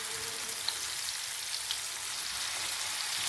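Fish pieces for spicy fish piddupu frying in a pan of hot oil, a steady broad sizzle throughout with a few small pops, close and fairly quiet, no talking.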